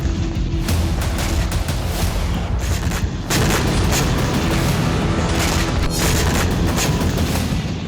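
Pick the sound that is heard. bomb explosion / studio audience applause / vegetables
bomb explosion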